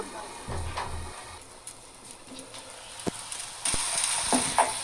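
Flat beans go into a pan of cooking spinach and sizzle softly, with scattered utensil clinks and scrapes and a louder hiss of frying swelling near the end.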